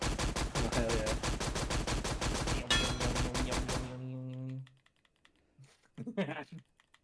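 Rapid automatic gunfire in the VR game H3VR rattles in a dense, loud stream for about four seconds, then stops abruptly. A lingering tonal ring follows, then brief sounds near the end.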